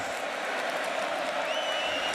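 Stadium crowd at a Montreal Alouettes home football game against the Toronto Argonauts, a steady, distant roar of many voices with some clapping, faint and continuous with a whistle-like tone rising briefly through it.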